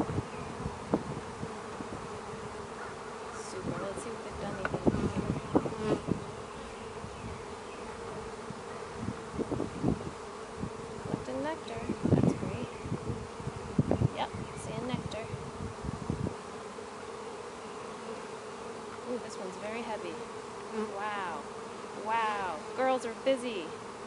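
Honeybees hum in a dense, continuous drone at a hive with swarm cells, individual bees buzzing past close and loud at intervals above the steady colony sound.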